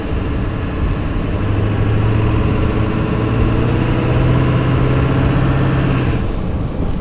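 Ford OBS truck driving in snow with a new turbo downpipe, its engine droning steadily and a turbo whine rising and holding throughout, loud and close with no talk.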